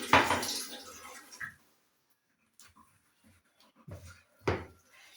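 Water poured into pizza dough in a home kitchen, a soft broadband pour for about a second and a half, followed by quiet and a few brief clinks and knocks of kitchenware.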